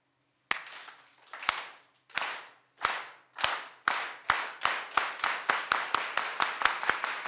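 A group claps together in unison, single sharp claps that start slow and spaced, then speed up into a rapid, accelerating rhythm.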